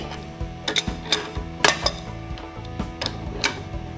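Repeated metallic ticks and clicks from a wrench being worked on a nut to ease a Mini Dandy die set loose from a press, with a sharp pop among the irregular, close mechanical clatter.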